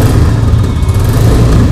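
A 2023 Royal Enfield Classic 350 motorcycle engine revs steadily and loudly at close range, a continuous low rumble with no speech over it.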